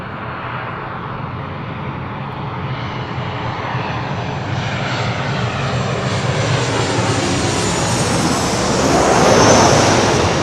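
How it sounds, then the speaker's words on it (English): A Southwest Airlines Boeing 737-700 arriving from Las Vegas roars in on approach, its engine noise swelling steadily louder and peaking near the end as it passes close. "This is Southwest Airlines 696 coming in from Las Vegas on a 737-700"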